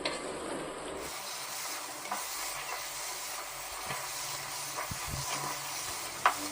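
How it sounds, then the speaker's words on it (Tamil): Fried onions being stirred into chicken chukka in a pan, a low, even sizzle with faint scraping of a spoon and one brief knock at the end. "நம்ம சேர்த்துக்கிட்ட பொரிச்ச வெங்காயத்தை சிக்கனில் நல்லா கலந்து விட்டுருவோம்"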